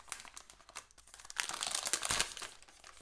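Plastic packaging crinkles and crackles as it is pulled off a Beelink SER6 Pro mini PC, with scattered rustles growing denser and louder halfway through before easing off.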